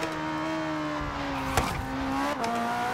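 A Ferrari 488 GTB engine drones steadily in Forza Horizon 3 as the car is driven, its pitch gliding slightly up and down with a brief sharp burst midway, loud and continuous with no talking.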